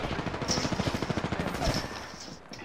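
Rapid automatic gunfire from the Apex Legends video game rattles in a quick, even burst of shots at moderate volume, then trails off.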